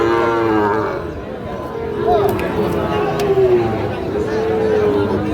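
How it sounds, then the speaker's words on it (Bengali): A Sahiwal bull calf, five to six months old, lows at a cattle market, a drawn-out moo rising over the hubbub of the crowd and nearby voices. "এটাও শাহিওয়াল ষাঁড় বাছুর, 5 থেকে 6 মাস বয়স হবে"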